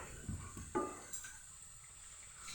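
Soft sizzling of bottle gourd peel frying uncovered in a pan, with a few light stirring knocks; no voices.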